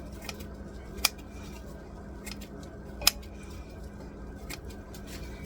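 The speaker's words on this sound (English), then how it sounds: "I'm gonna cut them up with my scissors here." Scissors snip through frozen carrots for chicken vegetable soup, a few sharp isolated clicks spaced seconds apart over a quiet room hum.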